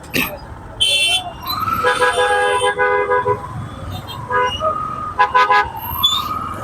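Busy road traffic with vehicles passing and repeated car horns honking, several short toots and longer blasts near and loud, over a steady background rumble of engines.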